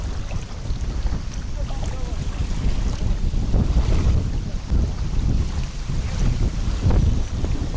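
Strong wind roars steadily across a microphone beside an autumn fishing pond, low buffeting gusts rising and swelling throughout with no voices.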